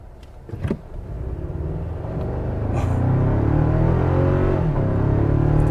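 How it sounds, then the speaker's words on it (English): A 2024 Toyota Tacoma TRD Sport pickup's engine, somewhat V6-like, hums low, then builds to a rougher, louder rumble as it accelerates in sport mode, heard from inside the cab. "it sounds somewhat like a V6 a little bit"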